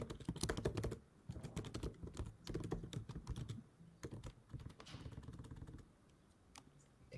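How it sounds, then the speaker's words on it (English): Computer keyboard typing: rapid, irregular clicking keystrokes close to the microphone, continuous for several seconds with brief pauses. "I hear some typing in the background"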